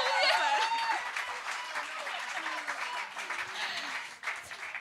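Applause and cheering from an audience after a stage performance at a Cégep Garneau event, a dense burst of clapping mixed with excited voices and whoops, loud at first and easing slightly toward the end.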